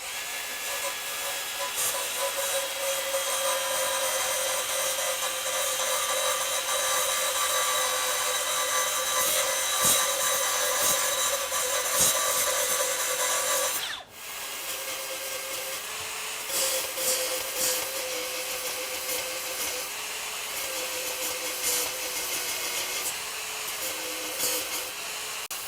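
A Makita XSB01Z 18V brushless belt sander power file grinding a spot weld on a car body panel, giving a long, steady, high-pitched abrasive whine close up, with one brief pause midway before the grinding resumes.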